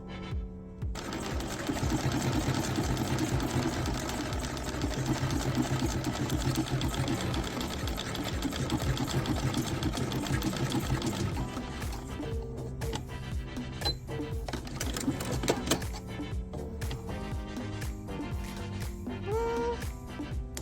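Sewing machine test-stitching a decorative applique stitch on a quilt block, running steadily for long stretches with a rapid mechanical patter that shifts rhythm near the end, close and alone.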